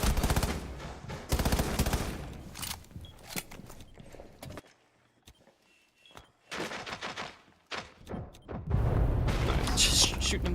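Rapid bursts of automatic gunfire fired through walls in a tactical shooter video game, loud and close, broken by pauses with footsteps and a quieter stretch before the shooting resumes, while a voice talks over parts of it.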